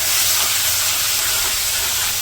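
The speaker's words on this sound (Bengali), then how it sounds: "কড়াইতে তেল দিয়ে দিই, মাংসগুলো দিয়ে দিই ভাজার জন্য" Meat fries in hot oil in a wok, making a loud, dense, continuous hiss and sizzle up close with no voices.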